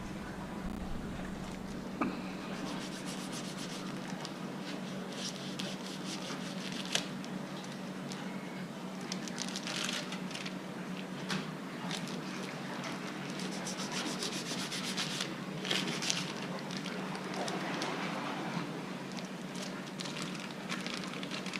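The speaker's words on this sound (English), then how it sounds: "I find the meat mixer is a much more efficient way of doing it" Meat mixer churning ground venison for summer sausage. A continuous low scraping and churning sound runs steadily from start to finish.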